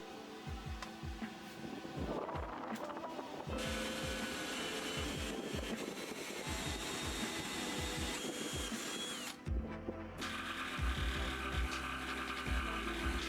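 A jigsaw and then a router cut an opening in a workbench top for a router insert plate, loud buzzing and whining close up, the jigsaw chattering rhythmically before a sustained router roar takes over.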